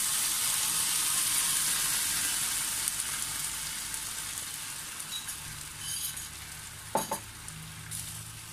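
Chicken breast sizzles steadily in a pan as sauce is added, a loud even frying hiss with a few clinks and stirring clatters near the end.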